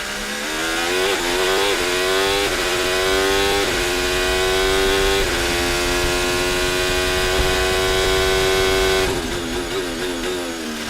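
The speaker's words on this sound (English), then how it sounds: "This is a brand new Ferrari going around the same circuit" A brand new Ferrari circling a race circuit, its engine note loud and steady with rising revs between shifts and a brief drop near the end, no voices over it.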